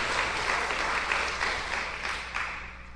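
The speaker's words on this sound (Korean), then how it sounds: "하나님께 영광의 박수 드리겠습니다." A church congregation claps together in praise to God after a student's name is read, producing steady, dense applause at moderate volume with a low hum underneath throughout.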